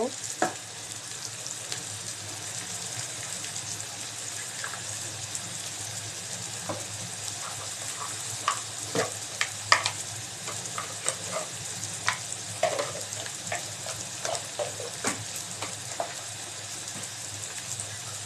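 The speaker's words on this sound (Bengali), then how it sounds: "তো আমি এখানে নাড়ছি নাড়ছি নাড়তে নাড়তে যখন এটা বাদামি কালার হবে" Chicken biryani ingredients sizzle in a pan while being stirred, a steady frying hiss broken by irregular scrapes and clinks of the spoon, fairly close and without talk.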